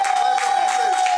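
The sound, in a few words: audience clapping for performer Blizzard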